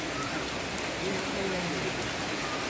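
Rain falling during the first rainfall of the year after a long dry spell, heard as a steady, even hiss that runs through the whole stretch without breaks.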